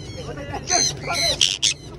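A few loud, harsh bird squawks in quick succession, close by, over a low background hum.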